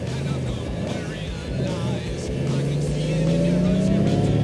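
A Honda Gold Wing DCT motorcycle in sport mode pulls out of a U-turn, its engine droning steadily and then rising in pitch and loudness as it accelerates, close and prominent.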